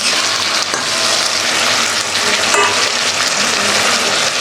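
Sliced onion frying in a pan, a loud continuous close sizzle with occasional scraping stirs, no voices heard.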